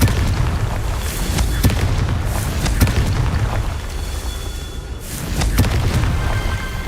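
Confringo blasting spell in Hogwarts Legacy, loud booming explosions with sharp cracks repeating every second or so over a dense rumbling background of combat effects.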